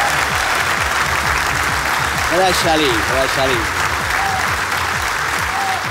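A stand-up comedy audience claps in sustained, dense applause, steady and close, while someone speaks briefly over it.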